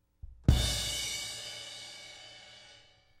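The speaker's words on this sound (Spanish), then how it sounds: "Este es un platillo de aire." A suspended crash cymbal is hit once after a faint soft tap. It bursts into a bright, shimmering wash that fades slowly over a few seconds, with nothing else heard.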